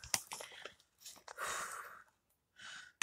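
Doritos Flaming Hot Tangy Cheese crisps crunched in the mouth, sharp close bites and chewing bursts separated by short quiet gaps, with some heavy breathing.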